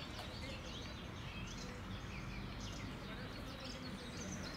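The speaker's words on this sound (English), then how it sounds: "Birds." Birds chirp and twitter outdoors in a dense, continuous chorus of small high calls over steady broadband background noise, with insect-like buzzing mixed in.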